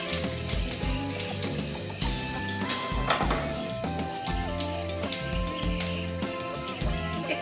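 Dried red chillies and panch phoron sizzle steadily in hot oil for a sweet-and-sour mango chutney, with occasional stirring scrapes and a faint melody running underneath.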